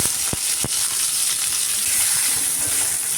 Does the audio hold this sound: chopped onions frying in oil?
yes